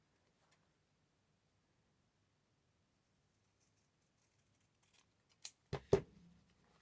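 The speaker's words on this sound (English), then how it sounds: "Okay, so I need to cut a little bit more." Scissors cutting fabric for a book's hidden-spine hinge, a few quiet close snips clustered near the end after near silence.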